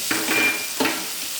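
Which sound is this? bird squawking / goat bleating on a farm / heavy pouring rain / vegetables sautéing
vegetables sautéing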